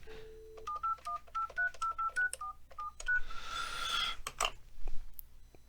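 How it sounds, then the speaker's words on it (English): Keypad tones dial a number in an Android phone app, a quick series of about a dozen evenly spaced beeps, followed by a short burst of noise and a couple of clicks. "Trying to dial extension"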